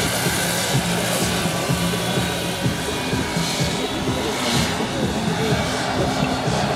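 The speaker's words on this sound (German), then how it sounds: "Der Hubschrauber wird genauso vorgeflogen wie das Original vor der Flucht" A model helicopter flies at a model airfield, a continuous whining rotor and engine drone steady and fairly loud throughout, with people talking faintly beneath it.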